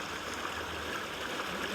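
Creek water flowing near marshy plants, a steady soft rushing and babbling with no breaks, moderately faint and continuous.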